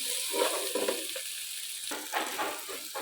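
Masala of chilli, turmeric, pepper and garam masala powders frying in a pan ahead of adding prawns, a steady close sizzle with bursts of crackle and occasional stirring, no voices.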